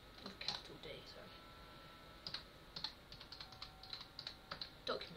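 Fingers typing on a computer keyboard, heard as quiet, irregular bursts of light key clicks over a low steady hiss.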